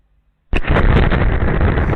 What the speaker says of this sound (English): Whatever this was, it was an incredibly strong explosion.